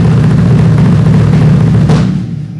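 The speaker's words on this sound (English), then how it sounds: "I made a hybrid of that technique into double strokes." A bass drum is played with double strokes using a hybrid heel-toe pedal technique, producing a loud, steady stream of rapid low beats that tapers off near the end.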